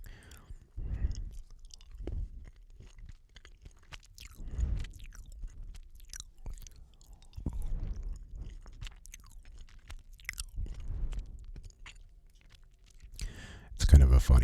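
Soft, close chewing of chocolate chips with intermittent crunchy bites in slow bursts, quiet mouth sounds between them, and a brief louder rustle at the end.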